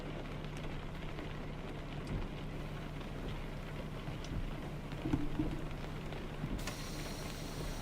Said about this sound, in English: And we wake up to some rain again.